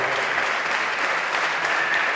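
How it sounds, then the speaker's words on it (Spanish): Audience applause at a political debate between congressional candidates in Murcia, a steady, dense wash of clapping from a hall crowd that holds evenly for a couple of seconds. "dejamos para el final la aplauso"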